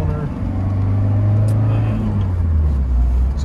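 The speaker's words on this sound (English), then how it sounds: "That exhaust rattle you hear under load, we'll have it looked at tomorrow" A 1991 Alfa Romeo Spyder is heard from inside the cabin while driving under load, with a steady low engine and exhaust drone and a faint rattle beneath it that stays loud and constant throughout.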